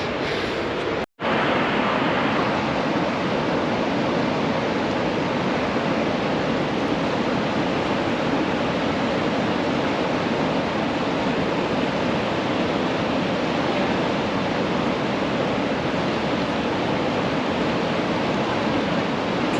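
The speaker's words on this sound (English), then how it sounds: "Kicking horse river." The Kicking Horse River in Yoho National Park, a constant loud broadband roar of rushing water, unbroken apart from a brief dropout near the start, with no voices.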